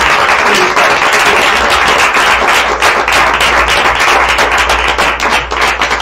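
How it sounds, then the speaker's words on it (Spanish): Loud, sustained applause from an audience at a book presentation. Dense clapping fills the room, close and even throughout, with no speech over it. "y un aplauso, por supuesto"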